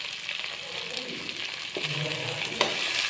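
Fish pieces sizzle and fry in a pan with ginger-garlic paste for an Assamese-style broccoli fish curry, a steady close crackle with stirring scrapes and a brief sharper clatter near the end, no talk.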